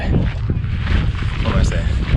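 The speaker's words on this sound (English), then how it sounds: "It's so windy." Strong wind buffets the microphone outdoors in a crowded place, a continuous loud rumble with gusting surges throughout.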